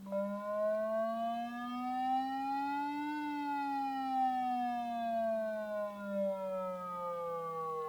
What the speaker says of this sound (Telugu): ప్రెస్ చేయగానే ఇప్పుడు మన మొబైల్లో ఆ సౌండ్ వైబ్రేషన్ అనేది రావడం స్టార్ట్ అయిపోయింది